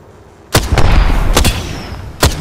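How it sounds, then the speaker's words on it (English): Gunfire in the video game Apex Legends: three sharp, loud shots, each cracking out and followed by a rumbling tail that fades before the next. "Getting shot at"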